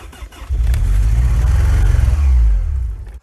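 A buried BMW, dug up after a year underground, cranks, catches and revs, its engine roaring loud and close for about three seconds before cutting off.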